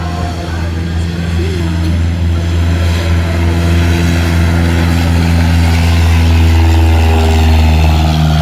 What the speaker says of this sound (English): there's the Cessna 182 rolling on takeoff